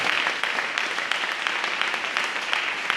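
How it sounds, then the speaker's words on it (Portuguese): A church congregation claps during a live Portuguese-language worship service, a dense, steady wash of many hands that holds for about three seconds with no voices over it. "Dá uma salva de palmas para o Senhor"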